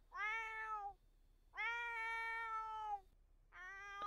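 A cat in The Sims 4 gives three drawn-out meows, each about a second long with clear gaps between them, close and clean against a quiet background.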